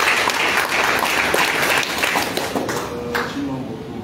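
Congregation applauding during a church prophecy service, a dense, steady wash of many hands clapping at close range that runs the full length, with voices calling out beneath it.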